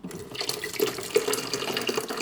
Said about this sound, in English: So I'm going to pour my kettle